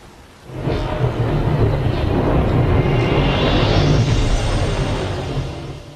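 A thunderstorm in Final Fantasy XV: after a quiet start, a heavy rumble of thunder swells and rolls on for several seconds over steady rain, then slowly fades.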